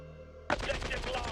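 Video game gunfire breaks out suddenly as a dense, continuous burst of automatic rifle shots after a moment of low droning hum.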